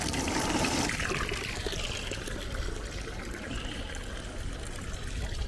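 Water runs steadily from a public drinking fountain in Vatican City, a continuous close splashing trickle with a brief louder gush at the start, without voices.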